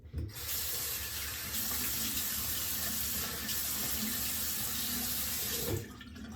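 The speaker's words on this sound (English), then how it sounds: "I'm going to just wash my face off with kind of warm water" Warm water gushes steadily from a tap into a sink while a face is washed during a safety-razor shave, a loud continuous stream that stops abruptly near the end.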